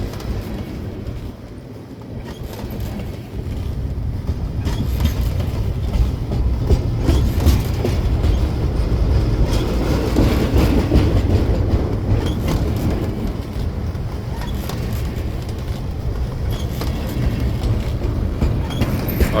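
A long freight train with a pusher engine rumbles past near the ghost town of Steins, New Mexico, a steady loud roar with rhythmic clickety-clack of wheels that builds and holds throughout.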